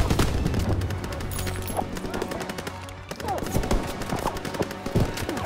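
Call of Duty WWII combat during the Liberation mission: dense, continuous battlefield gunfire with overlapping shots and bursts, loud and close, sustained for the whole stretch.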